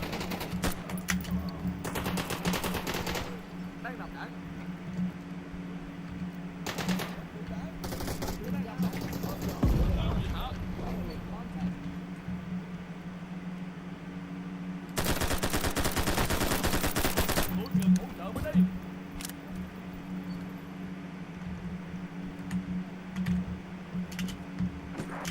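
Gunfire in a shooter video game, weapon switched to semi-automatic: bursts of rapid shots around the start and a sustained volley in the middle, with sparser single shots between, under occasional game voice lines.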